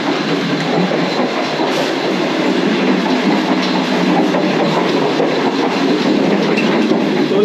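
A passenger train travels steadily on rails between Karachi and Lahore, with a continuous loud rumble and rhythmic clatter of wheels over track joints heard from inside the carriage throughout.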